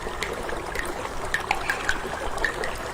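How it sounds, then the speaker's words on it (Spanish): Water trickles and drips from an open tap, a soft steady dribble with small bright plinks scattered irregularly over it, faint and close. "Escuchá cómo gotea."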